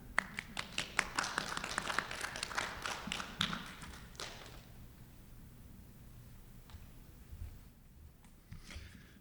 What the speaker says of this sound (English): And we always clap.